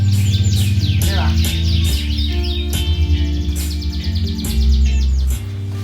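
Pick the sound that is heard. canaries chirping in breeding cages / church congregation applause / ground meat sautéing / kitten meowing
canaries chirping in breeding cages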